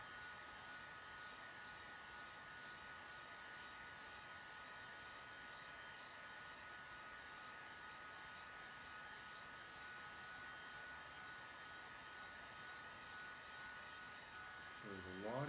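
A hot air tool blows steadily over an Xbox 360 circuit board during reflow, giving a faint, even hiss and whine that holds unchanged for the whole stretch.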